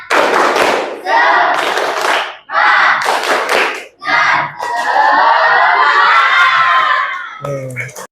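A classroom group at a teacher-training session performs a rhythmic spirit-clap ice breaker: loud, close bursts of clapping and shouted group chants, separated by short pauses, with a final lower voice at the end.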